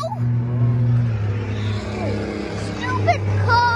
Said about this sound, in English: It's just a super loud car.